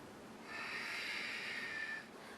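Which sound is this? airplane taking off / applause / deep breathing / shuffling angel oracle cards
deep breathing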